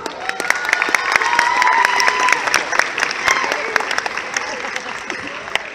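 Steady applause from an audience at an anime expo fills the whole stretch, many hands clapping densely at a constant level, with some faint crowd noise mixed in.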